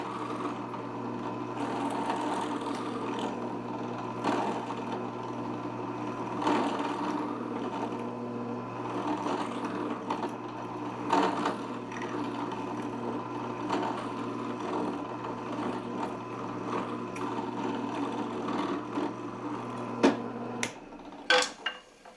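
A drill press boring a mortise into wood, with a steady motor hum under repeated grinding, chattering bursts as the bit cuts, then the motor winds down.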